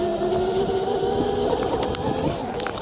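MotoTec 8000W electric dirt bike pulling away gently on wet ground, a steady whining motor tone with slight rising pitch and tire noise, continuous and fairly close throughout.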